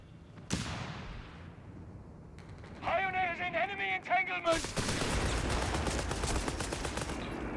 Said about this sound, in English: Vickers gets a good burst in there, but back the other way there's a barrage coming in